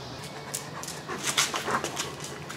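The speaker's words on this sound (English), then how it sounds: "Look at that dog guard his fence line." A dog guarding its fence line pants rapidly and steadily at close range, with a few faint whimpering yips mixed into the quick breathing.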